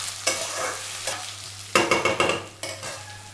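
Ginger paste fries and sizzles in a pan while a spoon stirs it in short scraping strokes, with a steady hiss throughout and no talking.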